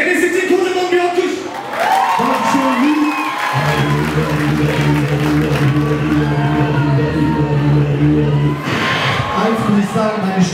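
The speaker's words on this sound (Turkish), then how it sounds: "Enes için kocaman bir alkış." A club crowd in Vienna cheers, whoops and applauds for beatboxer Enes, the loud, steady roar carrying on under a sustained low droning tone through the middle.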